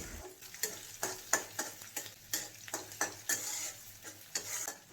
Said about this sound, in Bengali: পেঁয়াজটাকে এখানে আমি হালকা বাদামি করে ভেজে নেব